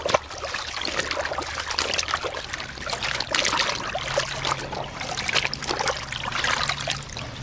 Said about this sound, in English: Now I'm just gonna dip my pants in here and get as much dirt into the water as I can.